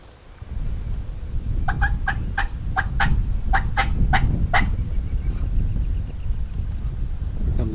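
Wild Merriam's turkey gobbling in Nebraska public land, a rapid run of gobbles repeated in quick succession at moderate distance over steady outdoor wind and background noise.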